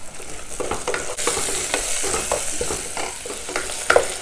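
Onion and garlic sautéing in hot oil for a spicy Tamil brinjal kara kuzhambu, a steady close sizzle broken by repeated scraping stirs of a spatula, with no voices.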